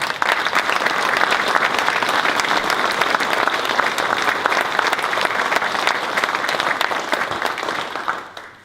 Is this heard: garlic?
no